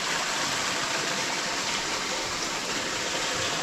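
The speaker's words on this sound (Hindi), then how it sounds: "और पानी तो आपको हर जगह पानी की आवाज़ें सुनाई देगी" Steady rush of flowing water running through Turtuk village in Ladakh, a continuous close broadband gush like a stream or channel, with no voices.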